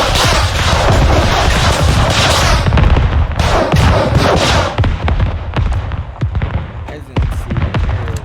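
Mortar fire in the military video game Squad, a dense barrage of loud booming explosions and cracks rolling together, thinning toward the end with scattered blasts and no clear talking.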